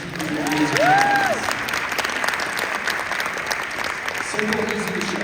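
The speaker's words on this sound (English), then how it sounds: "can everyone give Mark a round of applause" Audience applause for a presenter during a product talk, a steady spread of clapping across a room with brief vocal whoops and cheers near the start, continuing evenly to the end.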